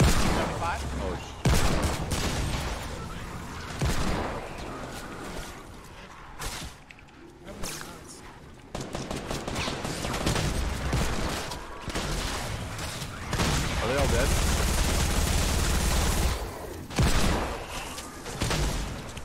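Rapid turret gunfire in a Fortnite match, bursts of shots and whooshes running almost continuously and loud, mixed with other game noise while players talk over it.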